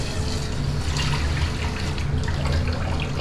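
Water poured into a cooking pot already seasoned with salt and malunggay leaves, a steady splashing pour lasting the whole moment, close and fairly loud.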